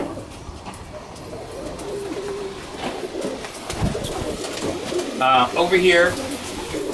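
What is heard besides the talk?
pigeons cooing in a loft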